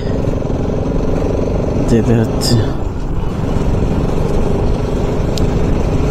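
A motorcycle rides along a highway past a toll gate on the way to Kolkata, its engine drone steady and close throughout while someone talks over it.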